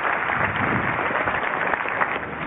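A studio audience applauds a contestant on Take Me Out Indonesia, a TV dating show. The clapping is dense and steady and fills the whole stretch with no pauses.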